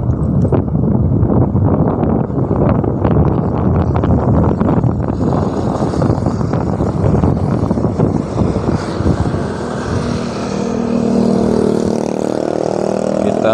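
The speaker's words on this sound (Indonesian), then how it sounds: "Anginnya kencang banget." Strong wind roars and buffets the microphone in a constant, loud rumble on a motorcycle ride, with a steady engine drone underneath.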